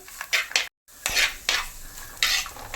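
Sliced onions sautéing in a pan for Kerala-style tuna fish thoran, with a close sizzle and repeated scraping stirs in short bursts, broken by one brief silent gap.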